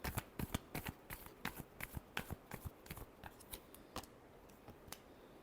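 Tarot cards being shuffled by hand give a close, quiet series of crisp riffling snaps and soft slaps in an irregular rhythm, with no talking.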